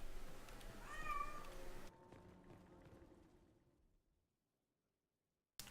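A pet cat meows faintly a couple of times beneath game audio and a person's quiet talk, then the sound fades into near silence.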